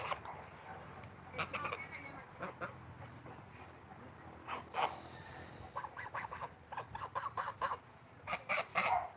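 Geese honking outdoors on safari, a run of repeated honks and calls in uneven bursts, some overlapping, at moderate distance over background noise.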